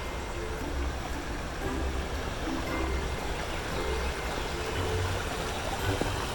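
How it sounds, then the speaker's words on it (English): Waterfall in a botanical garden, a continuous broadband rush of falling water at moderate distance, steady and unbroken, with faint intermittent tonal sounds in the background. "There's a waterfall over here."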